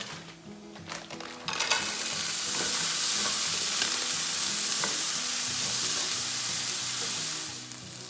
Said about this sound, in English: now that my garlic is a little browned, now I'm gonna add the frozen vegetables